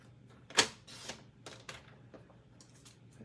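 A sheet of designer series paper being cut on a paper trimmer, giving one sharp close snap followed by a few lighter scraping slides and soft clicks in a quiet room.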